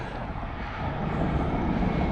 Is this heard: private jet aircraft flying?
yes